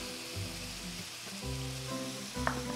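Onions sizzling in a pan for Black Sea pide filling, a faint continuous frying hiss with a few soft knocks and a brief clink near the end.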